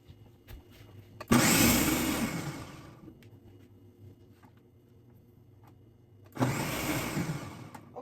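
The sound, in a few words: blender blending ginger with water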